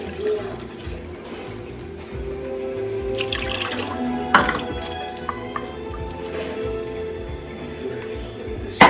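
Water runs steadily from a tap into a bowl holding sugar, about 1.5 cups, for several seconds, with a brief clatter midway and faint handling noises.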